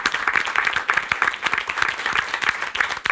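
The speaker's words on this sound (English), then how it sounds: "Let's do a little round of applause there." Dense, steady audience applause fills the room, many hands clapping at once, close and loud throughout.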